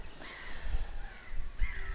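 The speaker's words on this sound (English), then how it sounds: "which at the minute it's just all the gulls" Gulls call over a coastal marsh in Norfolk, two harsh, loud cries close by, each a short drawn-out squawk with a gap between them.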